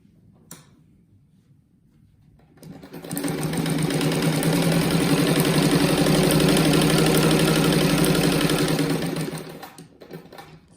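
A sewing machine stitches cotton tricoline fabric scraps into a patchwork rug, starting after a short pause and running steadily and loudly for about six seconds before stopping.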